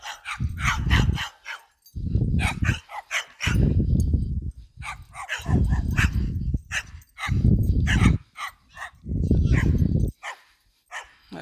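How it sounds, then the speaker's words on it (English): A large dog barks in loud, deep, close bursts, with repeated clusters of barks separated by short pauses and no talking. "That's a big ass dog."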